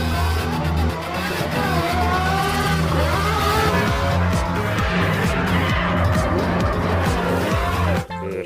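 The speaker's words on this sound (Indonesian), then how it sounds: "Lamborghini warna hijau." A green Lamborghini drives past amid busy traffic, a loud continuous engine roar with revving and tire-squeal-like sweeps, while a voice talks faintly underneath.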